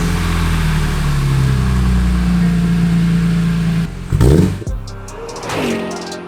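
A 2002 BMW E46 M3 with catless headers is heard at a steady, loud idle, then cut off before being restarted near the end with a brief revving burst.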